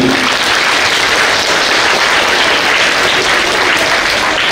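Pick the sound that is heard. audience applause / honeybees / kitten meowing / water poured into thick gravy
audience applause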